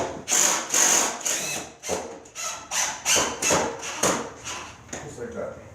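Screws driven with a power driver into a metal aluminum window frame during a retrofit vinyl window install, heard as repeated short whirring bursts in quick rhythm, close and fairly loud.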